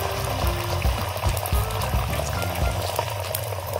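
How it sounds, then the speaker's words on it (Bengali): Two eggs fry in hot oil in a wok for a Kolkata-style double egg roll, giving a steady, close, bubbling sizzle with no talking. "কড়ার মধ্যে আমি তেল দিয়েছি। এবার এই দুটো ডিম ফাটানো দিয়ে দেবো।"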